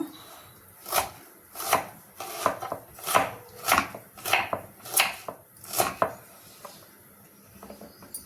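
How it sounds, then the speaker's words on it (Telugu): A knife chops ivy gourds (tindora) on a board in steady, close, crisp knocks, about a dozen evenly spaced strokes with brief pauses, no talking. "ఈలోపు దొండకాయలు కోసేసుకున్నాం"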